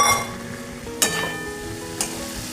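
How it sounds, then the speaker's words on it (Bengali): Fried jackfruit pieces going into a hot pan of potatoes, cashews and raisins for kalia, with a steady sizzle and two sharp scraping clatters about a second apart. "এবার আমি ভেজে রাখা এঁচোড়গুলো দিয়ে দিলাম।"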